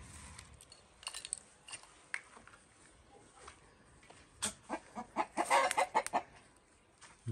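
Chickens clucking and calling close by in a village coop, a series of short bursts growing busier and louder toward the end, over quiet outdoor background.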